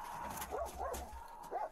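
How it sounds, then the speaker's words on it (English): A female dog gives low, wavering whimpering growls, three or four rising-and-falling moans over a steady low hum, fairly close and moderately loud. "Sounds like she's growling."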